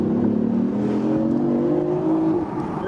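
Hybrid car pulling away with both its electric motor and gasoline engine working, a steady engine drone with a rising whine running loud and close throughout, easing slightly at the end.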